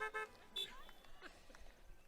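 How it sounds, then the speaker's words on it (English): Car horns toot in short bursts at an outdoor school commencement ceremony, a few brief honks from parked cars at a distance, with faint voices in the background. "Give me a honk if you can hear me."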